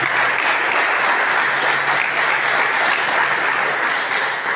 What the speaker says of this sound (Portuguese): aplauda mais uma vez o nome de Jesus